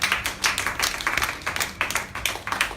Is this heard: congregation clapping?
yes